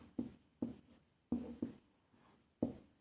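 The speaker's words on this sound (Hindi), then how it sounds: "देखो हम लिख लेते हैं" A pen writes by hand on paper or a board, in short scratchy strokes that come as five or six distinct bursts with brief pauses between them. The sound is close, quiet and free of speech.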